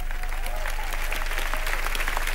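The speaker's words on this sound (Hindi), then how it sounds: "जोरदार तालियां बजा भैया पुलकित सम्राट के लिए" Studio audience on a Hindi comedy show, Entertainment Ki Raat, applauds steadily for guest actor Pulkit Samrat, a dense continuous wash of clapping with faint background music underneath.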